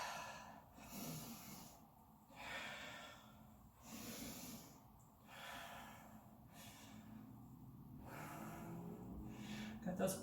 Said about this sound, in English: Those open mouth exhales will help you to release heat